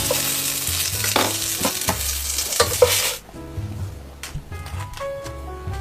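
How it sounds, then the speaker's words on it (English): Onions caramelizing in a hot pan, sizzling and being stirred with scraping bursts for about three seconds, then the frying drops to a softer, quieter sizzle. "Caramelized onions."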